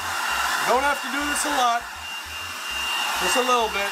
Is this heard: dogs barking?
no